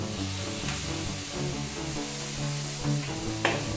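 Beer thrown into a pan of sautéing chili base sets off a steady sizzle with stirring scrapes, continuous and close, with no one speaking.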